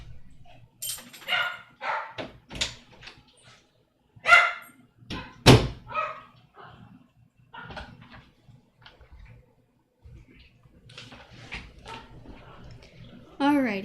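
A pet dog barks several times at close range, sharp loud yaps in a cluster with pauses between them, along with a door thud and some nearby talking.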